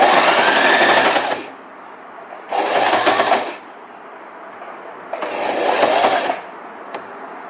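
A sewing machine stitching fabric scrap trim whirs close up in three short bursts of about a second each, separated by quiet pauses.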